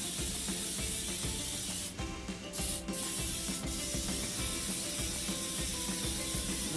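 Spray hisses continuously and close up, loud and broadband, with two brief breaks near the middle before the hiss resumes steadily.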